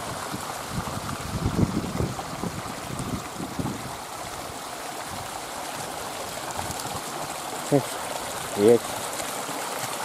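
A mountain stream, a tributary of the Agatsuma River in the Agatsuma Gorge, Gunma, rushes steadily as a continuous broadband wash, with brief spoken words and a few small knocks over it.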